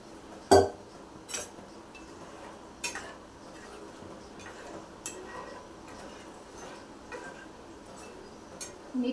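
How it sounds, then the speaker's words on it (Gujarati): A spoon stirs dal ingredients together in a metal pot, making sparse, quiet clinks and scrapes at an irregular pace with a couple of sharper knocks. "બધું મિક્સ કરી દેશું."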